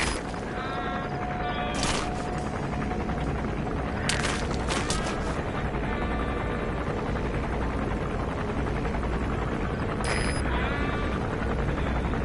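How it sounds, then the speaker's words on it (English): An enemy gunship helicopter in Metal Gear Solid 5 gives a steady, loud rotor roar that runs throughout, with short bursts of other game sounds on top. "That's an enemy gunship."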